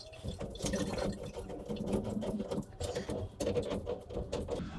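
Water runs through a hose into a plugged laundry drain, a steady broadband gush with patter and gurgle, fairly quiet and continuous throughout with no voices.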